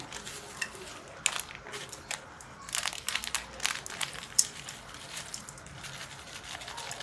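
A ready-mix spice packet for goat kacchi biryani crinkles and rustles in short, irregular bursts, close by and fairly quiet, as the masala is shaken out.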